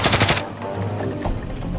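Rapid machine gun fire in an online shooter video game, a dense burst of close, loud shots followed by lingering in-game noise, with no voices.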